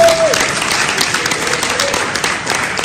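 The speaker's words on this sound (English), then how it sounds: "Give yourselves a round of applause." Applause from an audience at a leadership conference, sustained clapping that fills the whole moment at fairly high volume, with a bit of crowd voice mixed underneath.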